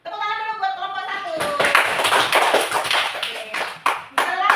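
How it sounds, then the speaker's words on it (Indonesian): A fifth-grade class claps for group 1 in a classroom; a voice speaks briefly first, then a burst of close, rapid clapping follows, with a few sharp individual claps near the end. "Tepuk tangan dulu buat kelompok 1"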